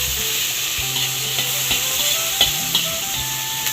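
Tomatoes sizzle steadily in hot oil in a pan while a utensil scrapes and stirs them in irregular taps, a continuous close frying hiss with no talking.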